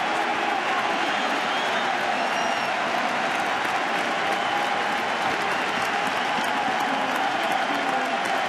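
A packed ballpark crowd at Game 6 of the 2013 World Series between the St. Louis Cardinals and Boston Red Sox roars and applauds in a steady, dense wash of cheering that carries on without a break.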